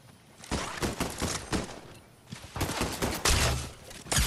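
Rapid bursts of gunfire ring out while shooting an enemy in a video game, several volleys of quick repeated shots in clusters with short pauses between them, loud and close.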